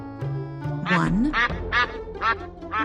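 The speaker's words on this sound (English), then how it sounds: "2 ducks." A run of four or five loud, nasal duck quacks comes in quick succession over a cheerful children's song, the calls close and prominent against the steady music.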